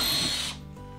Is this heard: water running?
no